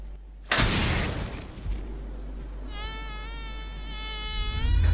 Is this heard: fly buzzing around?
yes